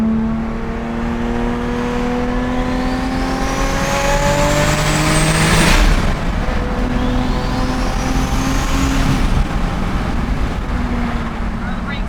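Toyota Supra engine revving hard while driving, loud rising and falling pitch sweeps through gear changes with a brief roaring burst midway, close inside the car, with people talking over it.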